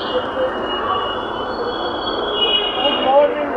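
A Kolkata Purple Line metro train at Joka station on its first commercial run rumbles steadily close by, with wheels squealing and a loud, continuous rolling roar that swells toward the end.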